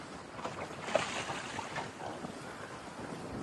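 Wind blowing across a racing sailboat at sea during the Vendée Globe solo round-the-world race, a faint steady rushing with microphone buffeting and soft water wash, no talking.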